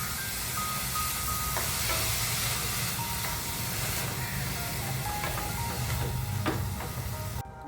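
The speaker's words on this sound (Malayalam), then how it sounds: "ഉപ്പും ചേർത്ത് കൊടുത്തതിന് ശേഷം ഒന്ന് നല്ലവണ്ണം മിക്സ് ചെയ്ത് ഒരു മീഡിയം ഫ്ലെയിമിൽ വെച്ച് നമുക്ക് നന്നായിട്ടൊന്ന് വഴറ്റിയെടുക്കാം." Sliced onions with salt sizzle in a pan over a medium flame for a restaurant-style egg curry, giving a steady close hiss with a few faint clinks, then cutting off abruptly at the end.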